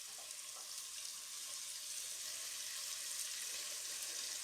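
Bacon rashers fry in a hot pan for Dublin coddle, giving a faint, continuous crackling sizzle that holds evenly throughout with no voices.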